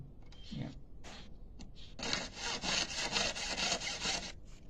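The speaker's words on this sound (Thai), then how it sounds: "คันเลื่อยนี่ตัดเลยนะครับ" Rhythmic back-and-forth rasping of a hand saw cutting a metal ring, preceded by a few short scraping strokes; close and moderately loud, no voices.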